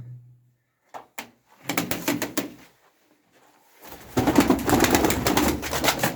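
A Dumanlı pigeon gives a short low coo, followed by bursts of clattering and rustling close by in a quiet room.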